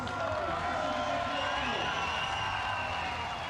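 A large crowd outside a strongman competition in Poland roars in a continuous wash of distant screaming and cheering, steady and fairly loud throughout.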